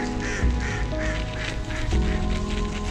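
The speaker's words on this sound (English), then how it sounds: "So first things first, we're gonna go say hi to these ducks." Ducks call in a series of honking, nasal quacks close by, several overlapping bursts in a few seconds, with no one talking over them.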